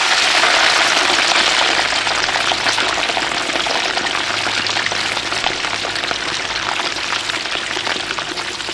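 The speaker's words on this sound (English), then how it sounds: "McDang then lowers the boned and filleted fish into very hot palm oil." Boned, filleted fish deep frying in very hot palm oil, a loud, dense, continuous crackling sizzle that holds steady throughout with no talk.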